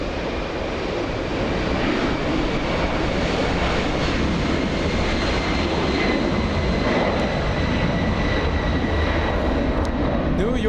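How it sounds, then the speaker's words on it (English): Steady, loud jet engine roar from a Delta airliner taxiing at Los Angeles International Airport, a broad continuous rumble with a faint whine holding throughout, no voices breaking through. "76 Delta on the move to add to the sound."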